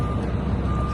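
A truck backs up on a coal haul site in Kentucky. Its loud, steady reversing beeper sounds close by over a heavy diesel rumble.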